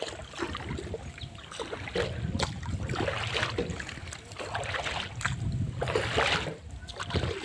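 A small boat rocks on a large lake in heavy waves, with water slapping and splashing against the hull in irregular surges, fairly close, and voices in the background.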